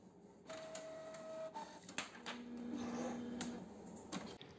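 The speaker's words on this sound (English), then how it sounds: "the next step is to print the finalized layout onto some transparent film" An inkjet printer printing a layout onto transparent film, with steady mechanical whirring, a couple of short tonal motor whines and small clicks of the print head moving back and forth, close and fairly quiet, without any talk.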